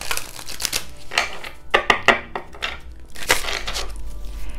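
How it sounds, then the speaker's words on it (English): A deck of tarot cards being shuffled by hand, with quick papery riffles and clicks in uneven bursts, close and fairly loud over a low background hum. "just give them a quick shuffle."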